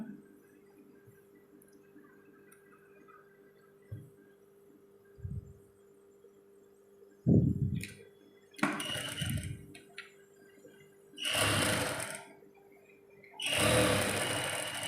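A sewing machine stitching a doll's arm runs with a steady motor hum, broken by intermittent thumps and louder rustling bursts of fabric handling.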